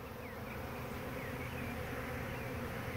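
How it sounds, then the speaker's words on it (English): A dense, steady drone of many honey bees buzzing continuously around a hive, close by and unbroken, with no voices. "There's still a few bees flying around the area,"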